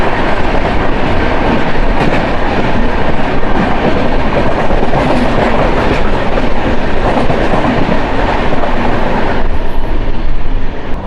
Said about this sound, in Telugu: ఇప్పుడు వెళ్ళిన ట్రైన్ 12795 కాదు, 12705. గుంటూరు నుంచి సికింద్రాబాద్ వరకు వెళ్ళే ఇంటర్సిటీ ట్రైన్.